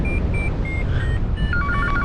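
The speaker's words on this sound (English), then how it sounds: "Oh, there goes the phone." A telephone rings in an indoor setting with repeated electronic tones through the two seconds, set against a steady broadband background hum.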